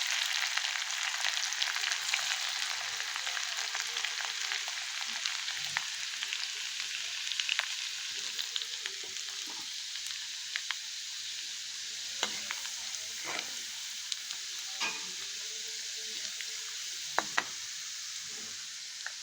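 Mustard seeds, cumin and crushed garlic sizzle steadily in hot oil for chivda, a constant bright hiss with scattered small pops and crackles, no voices.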